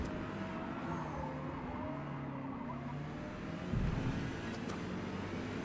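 A Toyota Supra race car engine in the Forza video game drones steadily under load on a practice lap, with a constant engine tone and tire noise and a slight surge near the end.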